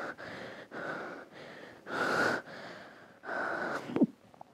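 Heavy, labored breathing in repeated rhythmic bursts, one loud gasp and a sharp catch near the end, close by and alone, part of a dramatic scene in Neapolitan.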